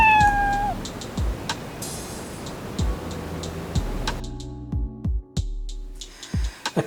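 Cartoon kitten character in the ScratchJr app gives a short meow at the start, followed by a series of light clicking and ticking taps.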